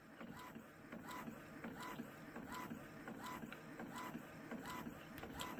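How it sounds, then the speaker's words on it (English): An Epson ST2000 rear-feed printer runs through a gift card print job with a steady mechanical whir and regular clicking ticks of the print head, close and continuous. "ST2000 printer that I picked up used on Facebook Marketplace a 3 years ago"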